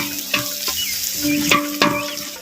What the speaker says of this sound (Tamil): பெரிய வெங்காயத்தை சேர்த்து அப்படியே எண்ணெயில் நல்லா வதக்கு வதக்குன்னு வதக்குறோம்